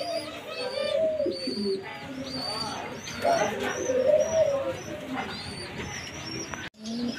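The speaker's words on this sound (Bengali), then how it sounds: "এইখানে রয়েছে আর এক জোড়া গিরিবাজ, দেখেন খুবই সুন্দর।" Giribaj pigeons coo in soft, repeated low rolling calls close by, with other birds chirping around them and a person talking over the top.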